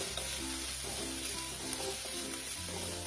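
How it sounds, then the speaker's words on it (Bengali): Garlic, grated ginger and chopped green chilli frying in a pan while being stirred, a soft continuous sizzle under faint background music or tones, close and steady. "রসুনের কাঁচা গন্ধটা যাচ্ছে ততক্ষণ একটু নেড়ে নিচ্ছি"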